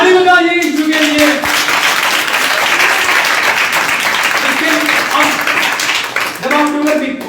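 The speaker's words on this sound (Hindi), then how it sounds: "ताली बजाइए यीशु के लिए।" Church congregation applauding steadily and loudly at a Hindi sermon for about seven seconds, dense continuous clapping with a voice heard under it near the start and end.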